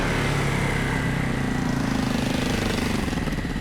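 Motorcycles on a road, giving a steady, close engine drone with a pulsing, buzzy tone that holds throughout without fading.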